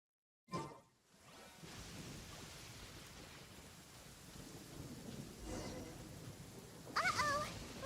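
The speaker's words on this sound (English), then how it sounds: "Lightning storm!" Rolling thunder and steady rain from a lightning storm in the video game Genshin Impact, a loud crack at the start easing into a continuous rumbling downpour, with a brief tonal chime near the end.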